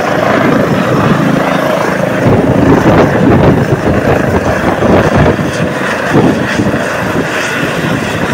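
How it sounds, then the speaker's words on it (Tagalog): A helicopter setting down on a ship's deck, its rotor and engine roar loud, close and continuous throughout, with a dense churning wash of blade noise and no voices. "Ayan na, nakalapag na siya mga kaibigan. Ayan ang ating helicopter."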